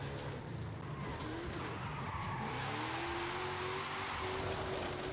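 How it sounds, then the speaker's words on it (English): A car in Forza Horizon 5 drifts through a handbrake-started slide, with a steady engine drone and rising, wavering tire squeal sustained at moderate level, with no talk. "I touched the handbrake to get a slide started"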